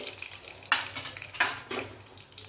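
Cumin and mustard seeds dropped into hot oil in a pan, producing bursts of crackling sizzle and popping alongside light utensil stirring and clinks, close and fairly quiet.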